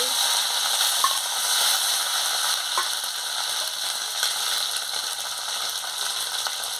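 Ginger paste and chopped tomato frying in a pan with a steady, loud sizzle and a few faint stirring clicks, continuous and close by with no talk.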